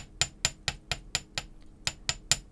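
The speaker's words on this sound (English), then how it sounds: "I'm going to get my mini chasing hammer and just hammer it" A mini chasing hammer strikes earring metal on a bench block in a close, crisp series of about ten even taps, evenly spaced at a steady rhythm.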